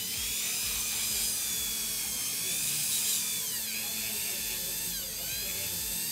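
An electric nail drill whines steadily at high pitch while stripping gel polish off fingernails during a salon fill, running continuously and close with slight pitch shifts, under quiet conversation.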